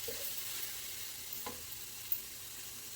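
A spaghetti sauce base browning in a pan makes a faint, steady frying hiss throughout, with one or two soft utensil touches and no talking.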